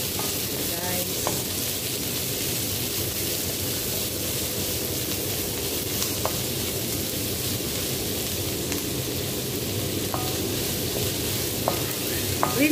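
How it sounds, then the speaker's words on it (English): Onions fry until brown for Indian poha, a steady close sizzle with occasional scraping stirs and a few sharp clinks of a utensil against the pan. "keep 10 minutes until brown the onion"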